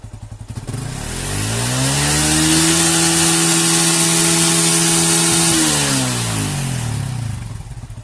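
An older Yamaha Vixion motorcycle engine is revved up close, with an electrical current leak under investigation. The idle is choppy, then the engine climbs to a sustained high rev for several seconds and drops back down, loud and alone.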